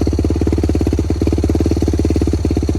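A Yamaha YFZ450 ATV engine chugs close by with its clutch eased out, a steady, fast throbbing pulse that holds an even, loud rhythm throughout.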